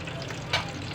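Cumin seeds sizzle in hot oil for pulihora, a steady close frying hiss with a brief louder crackle partway through.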